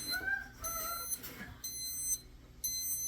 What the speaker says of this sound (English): Oh, it's actually beeping at 177.